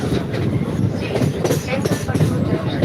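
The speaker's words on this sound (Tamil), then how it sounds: "இங்கேருந்து பார்க்கும்போது ஒரு இன்ஜின் போகுது" A railway engine rumbles past at Tambaram station in Chennai, a close, loud rolling roar with faint clattering of wheels and a brief squeal, heard without talking.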